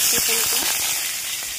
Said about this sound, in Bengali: ওই তেলে দিয়ে দেবো পেঁয়াজ